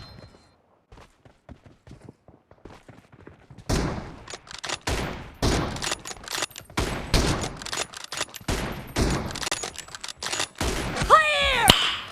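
Sniper rifle shots from an M24 in PUBG ring out in a rapid run of sharp, loud cracks, with quieter footsteps and scattered shots before the firing picks up.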